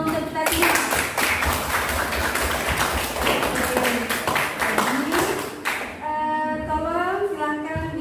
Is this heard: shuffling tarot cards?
no